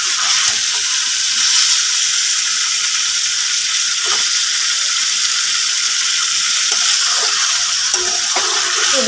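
Spice paste fries in oil for a fish and potato curry, giving a loud, constant hissing sizzle up close with occasional light clicks of a spoon stirring and no voices.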